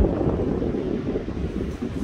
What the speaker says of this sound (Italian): il parco eolico qua, grande vento, molto forte, si può vedere, molto molto forte il vento